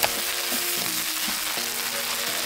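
A spoon or spatula stirs a browning mixture in a frying pan, scraping and knocking against the pan every half second or so over a steady sizzle.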